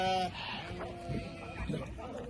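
A sheep bleats close by at a petting zoo at the start, a wavering nasal cry, followed by soft rustling and low outdoor background noise.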